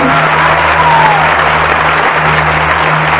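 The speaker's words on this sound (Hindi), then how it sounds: "पहले महाराज जी ने तालियां बजाओ जोरदार" A large crowd claps loudly and continuously at a devotional gathering honouring a saint, a dense, even roar of applause that fills the whole stretch with no break.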